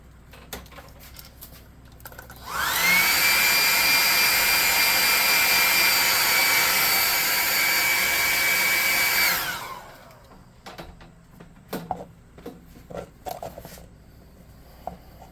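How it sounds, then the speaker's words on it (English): A hot air gun blowing on a painted tabletop model, a loud steady whooshing roar with a high whine that starts abruptly, runs about seven seconds and cuts off, with faint small handling clicks before and after. "Hitting this is a hot air gun again."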